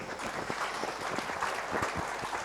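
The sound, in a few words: audience applause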